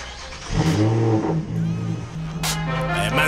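A Lotus sports car engine revs and drones nearby, running in convoy with an Evora 400 and Exige 350 on a track, rising in pitch as it accelerates, with a sharp burst of noise partway through.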